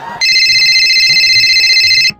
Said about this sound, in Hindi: अभी लगाते हैं किसी भी अनजान आदमी को फोन